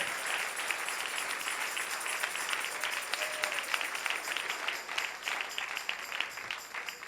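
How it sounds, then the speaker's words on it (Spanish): A church congregation applauds, the clapping steady and moderately distant, filling the space with a continuous patter and no speech over it. "Dale un aplauso al Rey."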